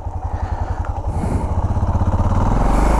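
A motorcycle revs hard at night during wheelies, its engine rising into a loud, rapid pulsing roar close by that builds steadily over a few seconds.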